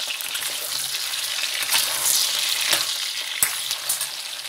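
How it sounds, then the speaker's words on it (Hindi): Potatoes sizzle steadily in hot oil in a home kitchen while aloo baingan is made, with a dense, loud crackle and occasional clatter of stirring close by and no talk. "यहाँ मेरे आलू फ्राई हो गए हैं"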